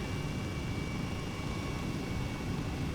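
An Airbus H135 helicopter engine throttling back in Flight Simulator 2020: a steady, unbroken whooshing drone with a faint high whine, even in loudness throughout, with no talk.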